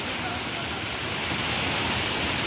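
A waterfall near Dhamapur village gives a constant, loud rush of falling water, an even and unbroken roar throughout.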